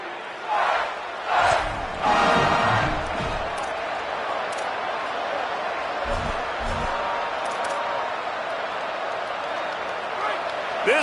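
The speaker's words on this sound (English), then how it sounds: "This crowd bringing the energy and noise early." A large stadium crowd roars and cheers in a big open space, loud swells early then a sustained wash of noise with a few sharp bursts.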